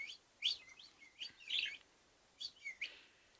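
A pet budgie chirps in short, bright bursts, several quick tweets in two clusters with a brief pause between, close by and moderately loud in a quiet room.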